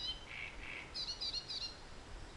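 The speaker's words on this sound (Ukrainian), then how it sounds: "Тут дуже гарно, птахи співають, і вітер набагато менший." Birds chirp and sing in short, bright phrases beside a pond, a few calls repeating over steady outdoor background noise, with no one talking.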